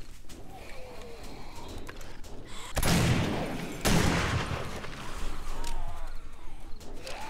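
Gunfire at enemies in the video game 7 Days to Die: two heavy bursts of rapid shots, each about a second long, rising sharply over quieter ambient game noise with faint bird calls.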